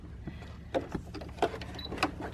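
A Brother PE-770 embroidery machine stitches appliqué around a number on a baby onesie, giving a steady mechanical whir with a few louder clacking bursts, close by and without speech.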